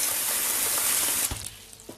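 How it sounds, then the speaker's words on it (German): Warm water gushes into a cooking pot in a kitchen, a loud steady hiss that suddenly drops away partway through, leaving faint clinks and quieter trickling. "So, dafür nehmen wir hier unseren Topf, tun warmes Wasser rein, wenn es geht."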